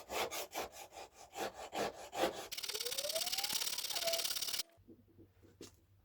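A hard steel hand plane iron is rubbed across a sharpening stone to work off the burr, giving about a dozen quick rhythmic scraping strokes, followed by a steadier hiss and a brief faint tone.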